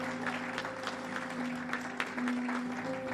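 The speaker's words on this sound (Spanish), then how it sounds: "un aplauso fuerte a Cristo" A church congregation applauds during a Sunday service, giving a steady, quiet wash of many hands clapping together over a low sustained hum, with no voice standing out.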